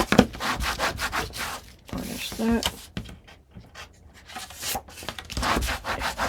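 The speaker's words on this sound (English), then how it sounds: "now that I've got that on, so now we'll burnish that" Paper is burnished onto chipboard with a bone folder, giving close, rhythmic rubbing and scraping strokes in quick repeated passes, with brief pauses between them.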